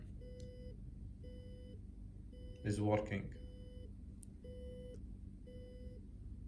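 An Arduino buzzer sounding a low-battery alert gives short, evenly spaced beeps, six in a row at a steady rhythm over a low hum. A person speaks briefly midway through.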